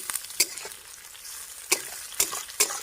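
Onion and garlic sizzle in a hot pan with a soft steady crackle, broken by a few sharp scraping clinks of a spatula stirring.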